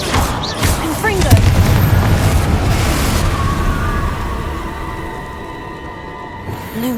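The Confringo blasting spell from Hogwarts Legacy detonates in a heavy, booming explosion that rumbles and fades over several seconds, with crackling magical effects and game sounds around it.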